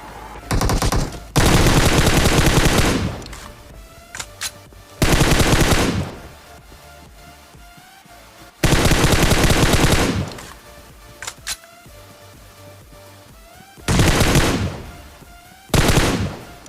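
Bursts of automatic gunfire from PUBG Mobile rattle out in several long, loud sprays separated by brief pauses, with quieter single shots and game sounds between them and no talking over them.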